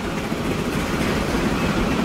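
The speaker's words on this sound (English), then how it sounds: "as the train got past" A freight train passing in the Transport Fever 2 rail simulation game, a loud, continuous rolling rumble with faint rail clatter throughout and no talking.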